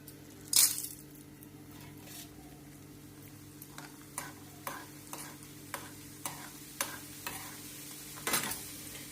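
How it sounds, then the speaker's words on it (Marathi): Sandge papad frying in a pan of hot oil, a soft steady sizzle with a sharp burst near the start and another near the end, plus a run of light regular clicks in between. "आता पहिल्यांदा सांडगे पापड तळून घेतले. बघूया तेल तापले काय."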